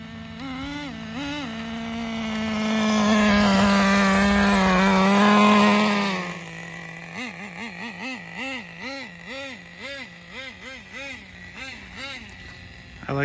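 A Traxxas 4Tec RC car's nitro engine fitted with a new transmission clutch screams at high revs in a sustained, loud buzz, then drops into a rapid series of rising and falling revs as it blips the throttle.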